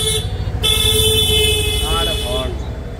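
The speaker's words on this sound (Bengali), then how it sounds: "আর হর্ন অনেক" Vehicle horns toot over the rumble of motor traffic on a busy street, short honks close by against a steady engine drone, while a voice talks over them.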